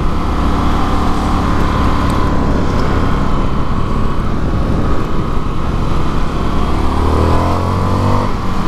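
An Indian FTR 1200 motorcycle engine pulls hard under acceleration, a loud continuous roar with wind rush that shifts pitch near the end.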